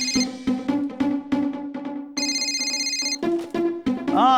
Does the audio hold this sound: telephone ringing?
yes